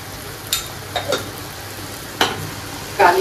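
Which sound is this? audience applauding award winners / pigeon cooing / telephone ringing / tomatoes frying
tomatoes frying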